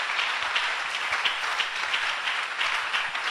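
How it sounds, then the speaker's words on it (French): A church congregation breaks into sustained applause, dense rapid clapping that stays loud and even throughout, with no voices over it. "Acclamons sa fidélité."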